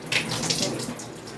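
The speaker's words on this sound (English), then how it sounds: "gently drain some of this excess water and vinegar" Water mixed with vinegar splashes and trickles as soaked wool fiber is lifted and gently drained in a sink, a steady close running-water sound lasting a moment with no talk.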